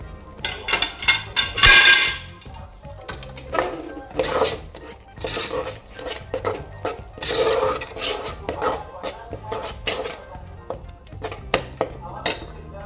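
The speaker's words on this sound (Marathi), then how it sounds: "चांगलं ढवळून घ्यायचं." A spoon stirs the ground masala paste for a Malvani egg curry in a metal pan, making repeated scraping clinks and rattles in uneven bursts, close and fairly loud.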